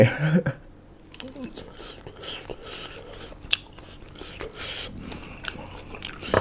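Spicy food being bitten and crunched at close range, with irregular crisp bites and soft chewing noises, and quiet voices murmuring between them.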